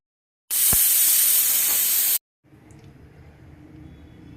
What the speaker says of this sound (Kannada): ಗ್ಯಾಸ್ ಹಚ್ಚಿ 3 ವಿಸಿಲ್ ಬರೋಗಂಟ ನಾವು ಕುಕ್ಕರ್ ಮುಚ್ಚಿ 3 ವಿಸಿಲ್ ಬರ್ಸೋಣ